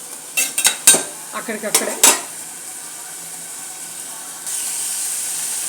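Chicken wings and beans frying with masala in a pan: a few quick metal utensil clatters and stirring scrapes up close, then a steady low sizzling hiss that carries on alone.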